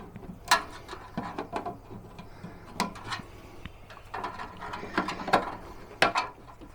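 Plastic cable ties are pulled snug on a refurbished plant stand, giving a string of sharp ratcheting zips and clicks in short bursts at close range, with no talk.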